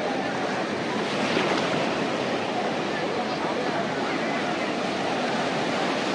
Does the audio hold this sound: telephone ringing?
no